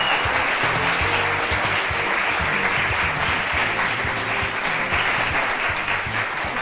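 Studio audience at an Indian television courtroom-style talk show clapping steadily, a dense continuous wash of applause lasting several seconds, with faint voices underneath.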